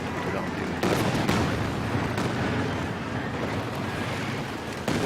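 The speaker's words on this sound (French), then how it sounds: "On a un tir de Calliope qui est fantastique sur l'infanterie" Calliope rocket artillery barrage in a World War II strategy video game match, a dense continuous rumble of launches and blasts with sharper bursts near the start and end, loud and steady throughout.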